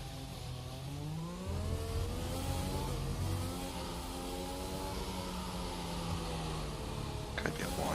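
An F1 car engine at Portimao in F1 2021 holds a steady high whine, its pitch rising and dipping through gear changes and throttle lifts, loud and continuous throughout.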